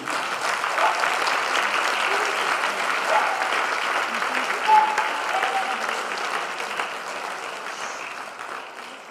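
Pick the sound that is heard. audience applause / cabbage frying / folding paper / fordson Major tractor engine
audience applause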